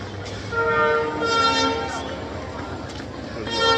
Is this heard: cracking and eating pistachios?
no